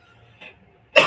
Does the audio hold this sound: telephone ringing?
no